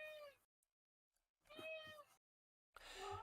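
A house cat meows three times in separate, drawn-out calls with pauses between them, close by and alone, the last call rougher and louder.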